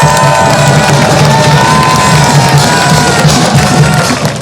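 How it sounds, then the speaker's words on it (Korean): An outdoor political rally crowd cheers and shouts loudly, a thick roar of voices and whoops sustained throughout with some clapping blended in. "앞으로도 많이 할 수 있도록 박수 보내주세요."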